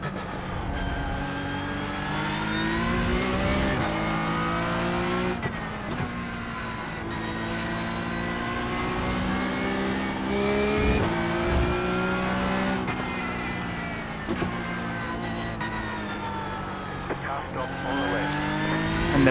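Porsche Cup race car engine held in first gear through a tight corner, a loud, close, steady roar with rising and falling revs under a voice talking.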